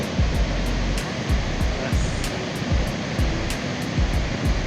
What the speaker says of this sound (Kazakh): Міне Сарқыраманың ең жақын жері.